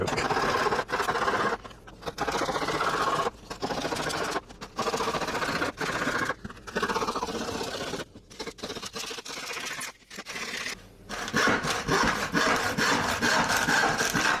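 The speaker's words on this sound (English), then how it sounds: "That definitely seems to be the favourite method so far" A handsaw cuts through a drum shell in steady, close rasping strokes, broken by several short pauses as the blade is repositioned, with no talking.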